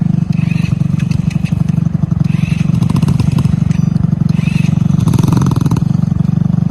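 A loud, rough engine revs repeatedly on the Ashmore asphalt racer car that has sat unused for a while, with a steady throbbing idle rising into rapid revving surges and mechanical clatter; faint voices briefly underneath.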